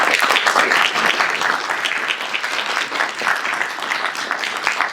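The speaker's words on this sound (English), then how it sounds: "round of applause" Audience applause at a gaming and STEM festival keynote, a steady dense wash of many hands clapping throughout, loud and sustained.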